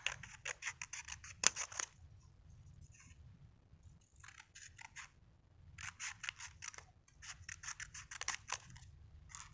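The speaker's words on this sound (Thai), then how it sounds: "เราตัดตามรอยแนวพับนะคะ" Scissors cut a paper lottery ticket along its folds in close, crisp bursts of snipping, clustered in quick series with short pauses between, and no talking.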